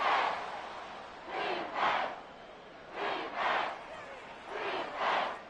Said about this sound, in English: The Arrowhead crowd in full roar.